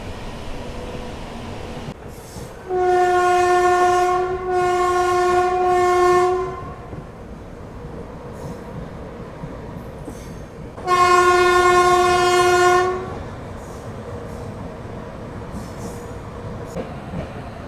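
The Vijayapura–Hubballi passenger train sounds its horn twice, each a loud, sustained multi-tone blast of several seconds, over a steady rumble of the running train on the rails.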